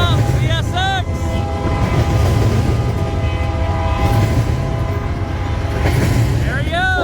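A CSX freight train rolls past at night in pouring rain, a loud continuous rumble of cars under steady rain noise, with short horn blasts near the start and again near the end.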